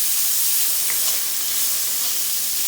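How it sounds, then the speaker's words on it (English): Bacon fries in a pan until crispy, giving a steady bright sizzle and hiss that runs continuously with no one speaking. "we're going to cook this bacon until it gets crispy"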